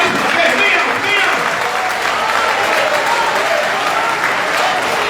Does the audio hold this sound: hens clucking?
no